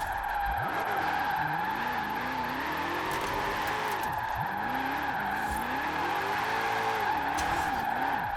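A low-budget wheelspin drift build in Forza Horizon 4 slides sideways in third gear, its engine droning steadily under a long, continuous tire screech that swells and dips through the drift.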